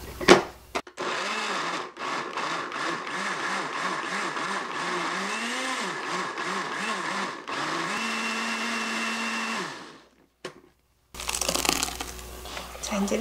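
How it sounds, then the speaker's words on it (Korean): A kitchen blender grinds a seasoning sauce of fish sauce, pepper and cooking wine for spicy marinated crab, running as a steady loud whir for about nine seconds, its pitch rising and falling as the blades catch, before cutting off. "자, 이렇게 해서 믹서기에다가 갈아줄게요."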